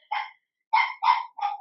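A neighbor's small puppy barks nearby, four sharp, high yaps in quick succession with a brief pause after the first, loud and clear with no talk over it.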